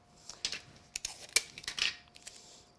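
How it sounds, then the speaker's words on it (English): Several quick snips of scissors cutting paper, close and crisp, in an irregular series of short strokes with quiet gaps between. "I'll just nip it away with my scissors."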